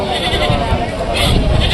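Goats bleat over the busy hubbub of a livestock market, close and loud, with people talking throughout.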